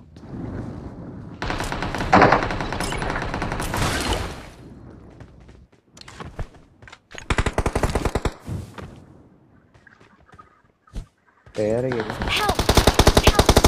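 Automatic rifle fire in PUBG Mobile rattles in rapid bursts, loud and close, separated by short gaps, with a player's voice talking between volleys.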